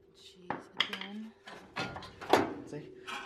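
Metallic clanks from hammering on a stuck control arm on an EG hatch car, a few sharp irregular strikes mixed with scraping and handling noise while people talk nearby.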